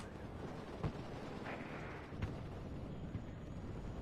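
Mortar fire in the WARNO strategy game lands as a few muffled, distant thumps over a dense, steady rumble of battle noise.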